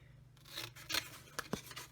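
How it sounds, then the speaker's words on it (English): Craft scissors snip through chipboard in a quiet room: a few soft rubbing strokes, then two or three crisp, close cuts with nobody speaking. "So I'm going to use my scissors"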